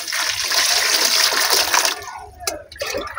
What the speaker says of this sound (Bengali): দেখুন কীভাবে জল দিচ্ছি।